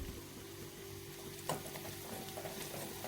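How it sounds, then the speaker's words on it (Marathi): Garlic frying in oil for a green chili dish, a soft steady sizzle with faint stirring clicks and one brief clatter midway. "आपल्याला या तेलामध्ये फ्राय करून घ्यायचं आपल्या लसणाला"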